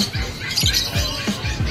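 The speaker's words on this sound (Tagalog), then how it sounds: "tingnan natin mga bagong ibon ngayon dito sa Ubando Pet Market" Bird squawking at the Obando pet market, harsh repeated calls close by in a fairly quiet stretch, with a few faint voices in the background.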